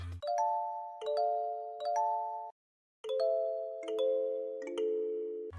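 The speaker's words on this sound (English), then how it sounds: "I added a kalimba. It kinda sounds like a lo-fi kalimba thingy for the first verse" Lo-fi kalimba melody in an FL Studio beat: two phrases of plucked, chiming tones with ringing sustains, a short gap of silence between them, played alone and up close.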